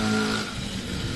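A motorcycle engine runs loud through a harsh, blaring muffler, a steady throaty drone with some rasp, close by and alone with no talk.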